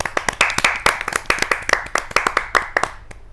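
A small group clapping close by at a Hindi poetry gathering, quick irregular claps forming brief applause that fades at the end.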